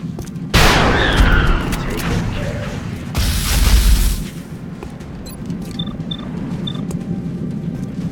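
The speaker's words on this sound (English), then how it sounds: "let's just try and gun this guy down" Gunfire in an XCOM turn-based battle: a loud booming burst near the start, then a second heavy volley a few seconds later, each decaying into a low rumble, followed by faint clicks and quiet ambience.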